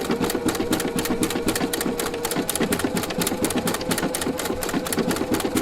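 Husqvarna Viking sewing machine fitted with a circular attachment, stitching decorative stitches in a steady fast rhythmic whirring and tapping that runs loud and close throughout, with no talk.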